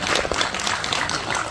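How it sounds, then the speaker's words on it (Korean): Audience applause welcomes a presenter to a public briefing on the Hyundai Motor GBC construction project in Gangnam, Seoul: a dense, steady clatter of many hands clapping from a crowded room, sustained and even throughout. "박수로 환영해 주시기 바랍니다."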